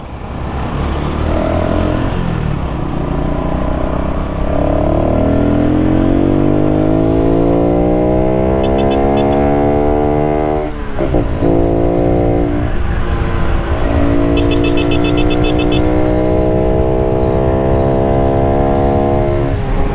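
A Honda Pop 110i motorcycle without an air filter, carrying a passenger, revs loudly up through rising pitch, drops sharply, then climbs again, buzzing close and continuous with no talking.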